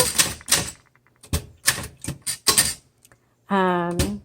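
Keys strike sharply on a 1968 Adler Universal 20 desktop typewriter, close and loud in irregular bursts with short pauses. A sustained ringing tone sounds near the end.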